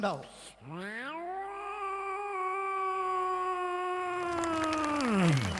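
A person imitates a cat's meow on stage in a comedy show, a short rising cry followed by one long sustained, wavering yowl that fades at the end.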